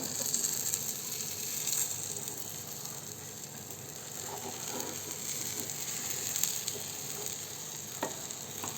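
Moringa leaves and egg fry in a pan and are stirred from the sides, giving a steady soft sizzle with light scraping touches throughout.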